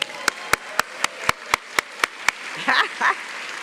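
A single person's sharp, evenly spaced claps at a university baccalaureate ceremony, about ten crisp hand claps close to the microphone, followed by brief murmuring voices.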